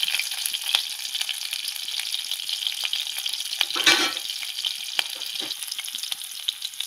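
Garlic and chilies sizzle and fry in a hot pan for a mushroom dish, a steady crackling hiss with scattered sharp pops and a brief louder burst of sputtering near the middle, no voices.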